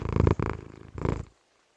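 A cat purrs in the video game Tales of Berseria, a short close rumbling purr in two bursts with a brief pause between, then silence.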